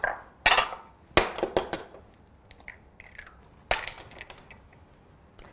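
Skim milk and raw sugar being mixed in a bowl, heard as a handful of sharp clinks and scraping knocks in irregular bursts, close and fairly loud, with quiet pauses between.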